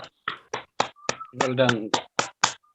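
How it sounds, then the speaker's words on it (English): A few separate claps ring out for a woman's speech at a talk event, sparse and close, with a brief spoken remark in the middle. "Give a good clap for Zikra Khan for her stunning speech."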